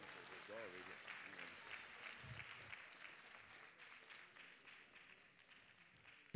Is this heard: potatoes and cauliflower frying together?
no